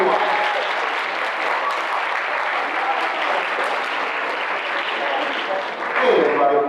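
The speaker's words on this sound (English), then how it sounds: "if you would give a nice, warm round of applause for our leader, our principal, Mr. Edward Owusu." A high school audience gives a steady round of applause for the principal, a dense wash of many hands clapping that holds evenly and swells briefly near the end.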